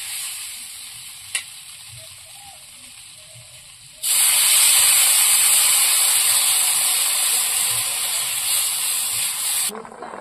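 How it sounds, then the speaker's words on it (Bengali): Curry gravy with added water comes to a boil in a pan alongside pumpkin and taro-root fish cooking, a quiet kitchen background giving way at about four seconds to a loud, steady hiss and sizzle that continues until near the end. "ঝোলটা ফুটে উঠেছে"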